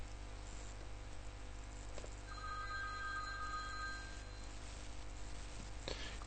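A telephone bell rings in an animated educational scene, a thin electronic trilling tone lasting about two seconds, moderately faint over a steady background hiss and hum.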